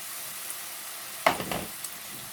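Potatoes drop into hot oil in a pan, giving a sudden hissing sizzle that flares up, then settles into a quieter crackle, faint and close.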